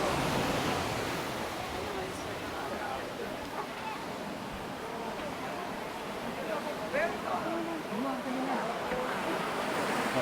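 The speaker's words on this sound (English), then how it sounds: "It's actually a small beach." Ocean surf at a small, busy beach in Uluwatu, Bali, steady broadband wash of breaking waves and wind, with faint voices mixed in.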